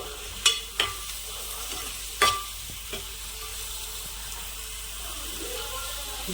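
Onions, green chillies and curry leaves sautéing in a pan for a capsicum and tomato curry: a soft, steady sizzle with a few sharp stirring clinks in the first seconds, then a quiet, even frying hiss.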